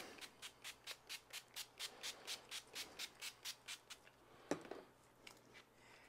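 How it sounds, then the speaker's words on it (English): Polisher-sander in sanding mode wet-sanding a yellowed Porsche 911 headlight with water, a rhythmic back-and-forth rubbing scrape repeating about three times per second for four seconds, then a sharp knock and fading strokes. "There's a switch right here that you can switch it to sanding, which is what I'm doing."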